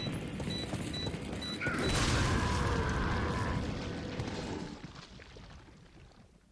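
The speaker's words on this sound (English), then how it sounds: "He heard the gun firing, which was enough to alert him to my location, but the explosion still killed him." Gunfire and an explosion in the video game Resident Evil 4, a broad booming burst of noise with a mechanical clatter that swells after about two seconds, holds, then fades out, with no talking.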